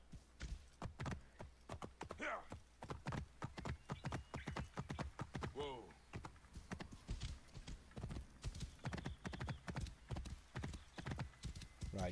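Horse galloping in Assassin's Creed Origins, a rapid, steady run of close, loud hoofbeats with brief whinnies and snorts mixed in, continuing without a break and with no talking.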